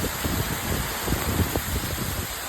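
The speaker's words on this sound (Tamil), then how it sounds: "என்னடா மழையா?" Heavy rain pours during Cyclone Fengal, a steady broadband hiss with scattered pattering and light gusting, continuous and fairly loud with no voices.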